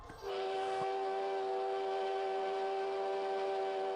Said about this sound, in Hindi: अचानक दूर पहाड़ों से एक पुरानी स्टीम इंजन की सीटी की आवाज गूंजी